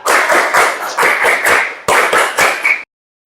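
A class claps together in the tepuk 1-2-3 pattern, with loud, close bursts of group clapping in grouped rhythmic sets that end abruptly in silence.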